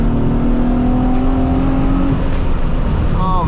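A 2006 Nissan 350Z pulls along on a drive, its engine a loud steady drone from inside the car, with the pitch holding and then dropping away as the revs fall.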